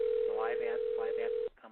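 A telephone ringback tone during a call: one continuous steady tone runs loud and close, then cuts off abruptly and is followed by a short quieter sound, with voices talking over the tone.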